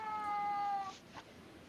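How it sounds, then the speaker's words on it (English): Angry Siamese cat giving one drawn-out, tonal meow that fades after about a second, faint and somewhat distant in a quiet room. "Somebody's cat's pissed."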